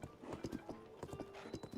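Horse hooves clip-clopping in Zelda: Tears of the Kingdom, a steady trotting rhythm of sharp, close hoof beats repeating through the moment, with no talk over it.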